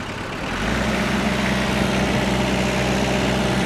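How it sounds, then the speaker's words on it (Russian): A Kubota GT3 four-cylinder tractor engine idles steadily up close, a low rumbling drone that swells slightly after the first half second and then holds constant. "Я думаю, что слышно, работает трактор, ну прям отменно."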